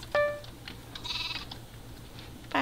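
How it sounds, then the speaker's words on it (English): Sheep bleating in a Minecraft game: a sharp bleat opens, followed by a few fainter, higher game sounds, then another bleat at the very end, over a quiet background. "Sheep."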